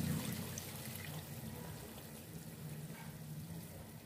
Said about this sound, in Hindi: ग्लास हम इसमें पानी डालेंगे।